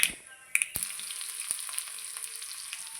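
Onions dropped into hot coconut oil with popping mustard seeds for a Kerala-style dal and tomato curry give a close, steady sizzle, broken by sharp crackles and a few louder pops near the start.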